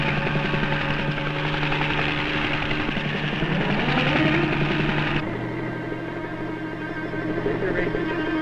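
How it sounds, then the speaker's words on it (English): A helicopter arrives over an outdoor oceanarium at a marine park, its steady rotor and turbine drone loud and close throughout, with the engine pitch shifting partway through as it settles. "John Prescott in the copter arrives on the scene"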